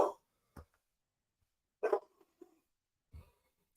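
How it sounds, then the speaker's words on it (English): A pet dog barks in a home, giving three or four short, sharp barks separated by pauses, fairly close and alone with no talk over them. "I usually lock her out because she likes to bark"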